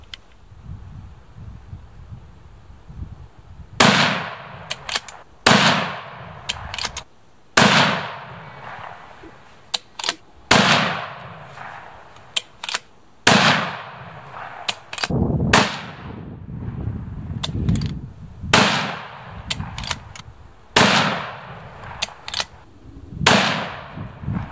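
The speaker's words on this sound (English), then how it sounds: "Okay, we're gonna shoot the sucker 10 more times and then we'll see if I'm ready." Ten or so sharp rifle shots from a Browning X-Bolt Micro Midas in .243 Win ring out at irregular intervals during target practice, each loud crack trailing into a brief echo, with quiet pauses between.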